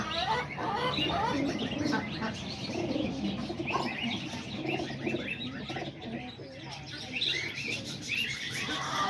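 Pigeons in a loft on a rainy day, a dense chorus of cooing and chirping calls overlapping steadily throughout, fairly close and continuous.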